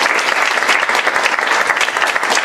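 An audience claps steadily for a group of young people at a live CEOs of Tomorrow youth event, a dense, sustained round of applause filling the room with no voices breaking through.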